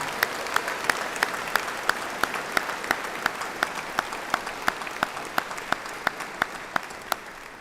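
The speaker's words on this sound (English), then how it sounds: "Ladies and gentlemen, let's have a round of applause for the 4 builders who have contributed so much." Sparse audience applause at a sports hall of fame induction ceremony, a modest crowd clapping in scattered, fairly steady sharp claps, moderately loud and sustained without voices.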